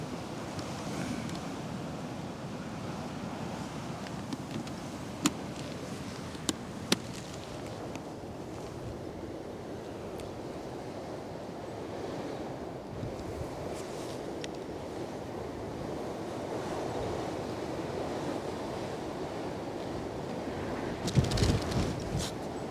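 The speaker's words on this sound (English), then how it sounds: "The wind is definitely getting stronger, definitely." Strong storm gusts from Storm Éowyn roar steadily at Newcastle Airport, a continuous broadband rush of wind buffeting the microphone with a few brief knocks and a louder burst near the end.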